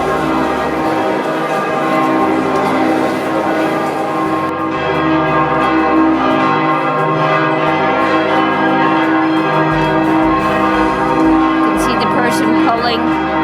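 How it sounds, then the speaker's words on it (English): Hand-rung church bells peal for the noon ringing, loud overlapping tones ringing continuously throughout, with a dense wash of resonant clangs and no pause. "and we caught the noon ringing."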